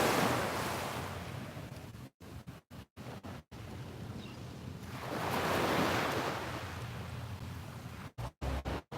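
Ocean surf rolls onto a beach in the morning, a broad rushing wash that swells and recedes with wind buffeting the microphone, heard alone with a few brief dropouts.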